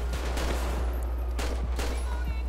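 Gunfire rattles in a GTA 5 police shootout, several sharp shots spaced through the moment over a constant low engine-like rumble, fairly close and loud.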